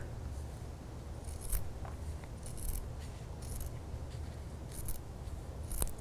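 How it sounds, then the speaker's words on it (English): Scissors snip through sewn quilting fabric along a drawn line while half-square triangles are made for a table runner, giving a series of soft, close, irregular cuts over a low steady hum. "we're going to cut that apart on the line we drew."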